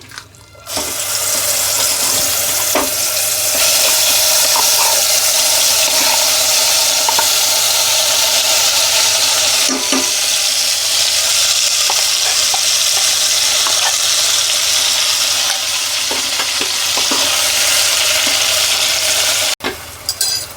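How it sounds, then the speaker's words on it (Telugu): Masala paste fries in hot oil for a brinjal curry, a loud, continuous sizzle with occasional scraping and stirring clicks close up, no voices, ending abruptly. "ఇప్పుడు మనము ఇదే నూనెలా ఈ పేస్ట్ అంతా వేసుకోవాలండి"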